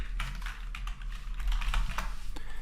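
Rapid typing on a computer keyboard, a steady run of close, crisp key clicks with no talking over it.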